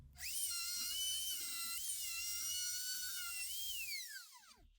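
A router bit spins at high speed, flattening an end grain cutting board and clearing off blue tape and glue. It gives a shrill, steady whine for about four seconds, then the pitch sweeps down sharply as it winds down, with faint low knocks beneath.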